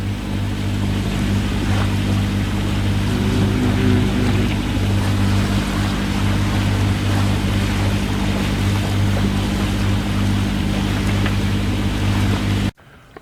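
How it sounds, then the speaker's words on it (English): A boat motors into the entrance of Island Head Creek, its engine droning steadily and close, with low tonal hum under wind and water wash, continuing evenly until an abrupt cut near the end. "we're just motoring in the entrance now"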